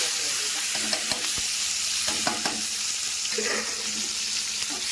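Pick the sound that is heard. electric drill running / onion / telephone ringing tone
onion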